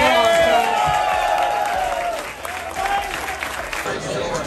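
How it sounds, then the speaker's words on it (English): A crowd at the Blade Show 2021 knife competition claps and cheers for prize winners, loud and lively, with voices and whoops mixed into the applause. "let's give these guys a round of applause"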